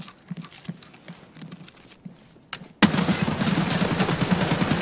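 A rapid burst of video-game gunfire erupts suddenly partway through, loud and dense after quieter scattered sounds and soft talk.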